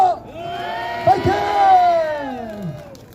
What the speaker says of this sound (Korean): 우리 박수 한번 주세요! 파이팅!